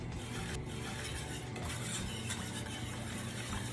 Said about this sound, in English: Just keep mixing it until it gets nice and thick.